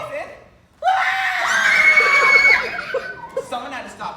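A woman screams loudly and close, a sustained high shriek that breaks into shaky, laugh-like gasps and fades into short vocal bursts.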